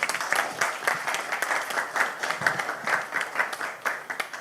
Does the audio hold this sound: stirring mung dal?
no